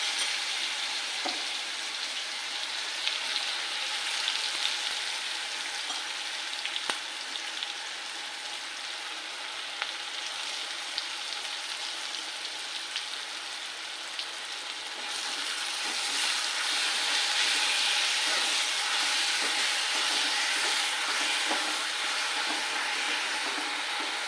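Green chilli thecha sizzling steadily in hot oil as it is tempered for a homemade pithla-bhakri meal, a continuous bright frying hiss that swells louder partway through, with no talking.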